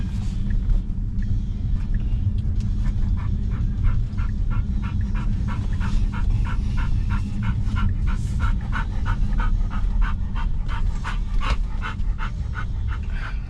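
A puppy pants in quick, steady bursts with occasional soft whines from close by, over the continuous low rumble of a moving car's interior.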